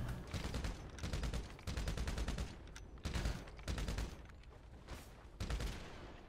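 Rapid automatic gunfire in a multiplayer shooter video game comes in several dense bursts of shots with brief pauses between them, loud and close throughout.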